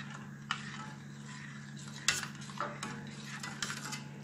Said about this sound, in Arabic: منحركن كتير منيح ليدوبوا كلياتهم مع بعض